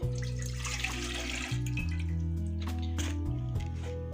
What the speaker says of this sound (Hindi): ये सबसे पहले मैं पानी शामिल करूँगी